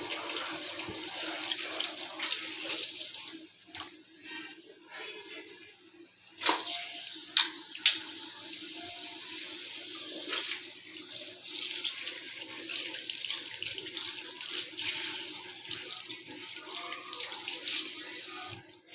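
Tap water runs steadily into a sink while sliced katri are rinsed, a continuous hiss with a few brief clatters and splashes partway through, fairly close and alone.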